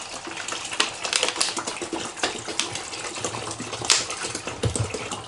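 Water splashes and gurgles steadily as it is poured into a Silonn countertop ice maker, with scattered clicks and knocks of plastic throughout.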